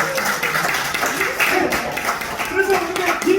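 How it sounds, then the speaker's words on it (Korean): An audience at a Korean author's talk on his novel claps in a steady wash, with voices talking over it throughout. "박수!"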